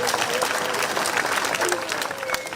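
Dense, sustained applause from an audience fills the whole stretch at a steady level, close and continuous, with no talk rising above it.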